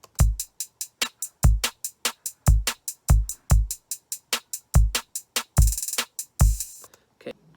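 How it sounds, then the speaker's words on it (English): A trap drum beat built in Soundtrap thumps along with punchy kicks and snares and rapid ticking hi-hats, including quick rolls near the end, loud and dry with no voices. "now that we have the drum beat"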